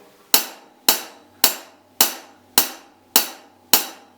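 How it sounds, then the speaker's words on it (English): Seven crisp, bright hi-hat strikes played as straight eighth notes of a rock beat at a steady, even pulse, each one snapping and decaying quickly. "you're going to put those eighth notes straight onto your hi-hat"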